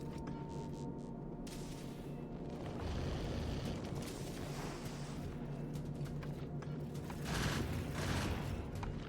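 Turrets firing ammo at asteroids in the game Factorio: Space Age, a dense continuous rattle of rapid shots over a low hum, swelling louder in places.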